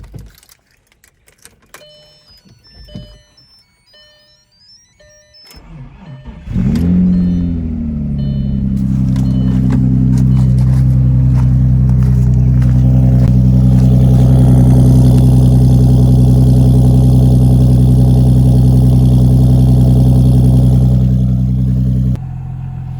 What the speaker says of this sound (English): let's hop in this thing and get a cold start video